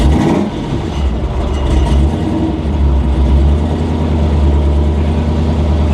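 A fire-damaged 1000hp race car engine runs steadily, its heavy low rumble thick and loud at close range, with a rough, uneven idle and no voices over it.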